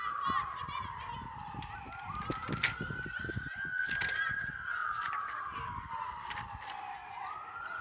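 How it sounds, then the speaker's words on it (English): A wailing ambulance siren rises and falls in long sweeps, moderately distant, with scattered clicks and background noise around it. "it's an ambulance"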